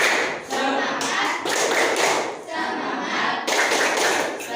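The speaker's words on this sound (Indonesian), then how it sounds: "Coba semuanya tepuk semangat." A classroom of standing students claps together in a rhythmic spirit cheer, loud bursts of group clapping in short repeated phrases with brief gaps between them.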